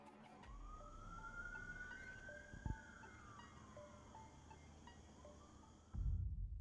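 A siren wails faintly in the distance, its tone rising and falling, with a dull thump midway and a burst of rumbling noise near the end.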